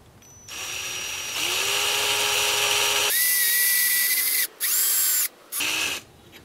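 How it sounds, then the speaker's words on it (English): A power drill with a brad point bit bores a hole in wood for a small twig perch on a turned wooden ornament. The steady whine shifts pitch midway, runs loud and close, then cuts out twice in brief stops and restarts. "So I'm going to drill a hole for that little twig"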